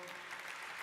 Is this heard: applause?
yes